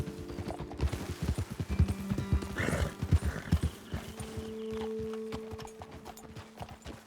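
Horses' hooves clip-clop at a walk on a trail in the Western video game Red Dead Redemption 2, with rhythmic close footfalls, a brief whinny midway and tack jingling.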